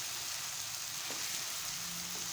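Okra (bhindi) fries with masala in a pan, giving a steady, even sizzle that runs unbroken from start to finish with no voices.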